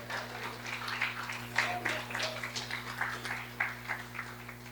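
Congregation applauding during a Sunday church service, a soft, steady patter of many hands heard from a distance over a constant low electrical hum.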